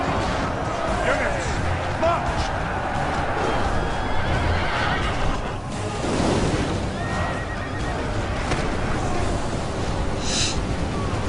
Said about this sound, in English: A lot of horses dying.